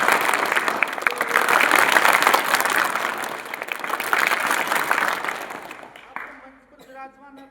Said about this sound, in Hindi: एक सर ने आपको बताई राष्ट्रीय एकता ताली